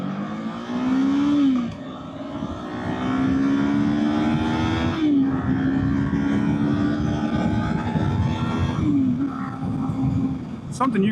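A 2024 Kawasaki Eliminator 450 motorcycle engine hums steadily while riding, with pitch rising under throttle and dipping at gear changes, wind rush underneath and a rider talking over it.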